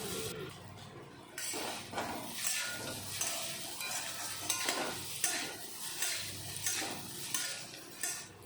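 Chowmein is stir-fried in a pan over a high gas flame: a steady sizzle and frying hiss with repeated scraping and clinking of a metal utensil against the pan in uneven bursts, no voices.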